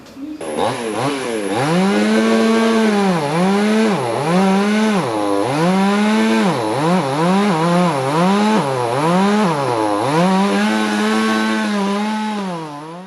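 A chainsaw cuts through a huge fallen mango tree beside a state highway after a landslide, its engine loud and close, revving and bogging repeatedly in a steady sawing rhythm.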